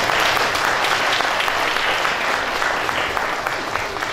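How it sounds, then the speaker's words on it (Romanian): A crowd applauding students at an International Holocaust Remembrance Day commemoration, a loud continuous roar of many hands clapping, dense and even from start to finish. "Eu țin să îi aplaudăm cu toții pentru că merită acest lucru."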